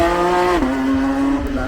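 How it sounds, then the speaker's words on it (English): A Red Bull RB7 Formula 1 car driving up the hill at Goodwood, a loud, close, high-pitched engine whine that drops in pitch as it shifts gear, then holds steady. "We've got the Red Bull RB7 here, and it's Patrick Streeter who's driving it up the hill"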